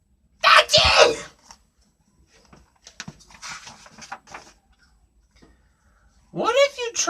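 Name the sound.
sneeze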